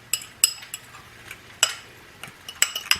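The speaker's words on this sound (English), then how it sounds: "get everything mixed in together really good" A spoon stirs ingredients with baking powder together in a bowl, giving sparse clinks and scrapes against the sides at irregular intervals, close and fairly clear with no talking.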